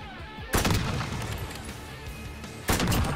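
Gunfire from the Call of Duty video game: two loud, close bursts of shots with rumbling booms, separated by a couple of seconds of lingering echo and battlefield noise.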